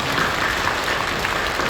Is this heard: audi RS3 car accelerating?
no